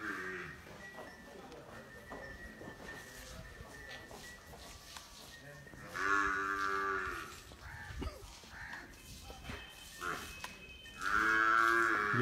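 A herd of water buffalo on a farm moos in loud, drawn-out calls, with two strong bursts partway through and near the end. People talk throughout, over low farmyard background noise.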